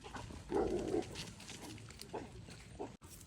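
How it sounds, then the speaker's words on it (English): Nearby dogs, one a Rottweiler, give low grunting, snuffling and growl-like sounds in short bursts, moderately close but fairly quiet, with an abrupt bump near the end. "Oh, it's another dog."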